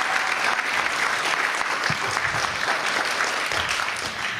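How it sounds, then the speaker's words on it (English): Steady applause from an audience at an entrepreneurs forum evening event, dense and continuous clapping from many hands, moderately loud and sustained for the whole stretch. "So round of applause for Cynthia."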